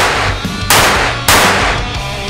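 Very powerful pistol fired outdoors, two loud close gunshots about half a second apart, each a sharp blast followed by a long ringing decay over a steady low rumble.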